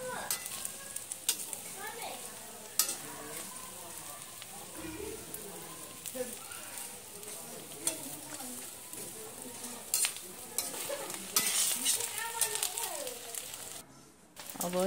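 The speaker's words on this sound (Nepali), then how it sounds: "माथिको तेलमा चाहिँ हामीले लास्टमा चाहिँ माछा हालेर तार्ने काम गर्दछौँ" Sidra fish frying in hot oil while being gently stirred, a steady crackling sizzle with scattered scrapes and clinks throughout, close and continuous, while a person talks over it.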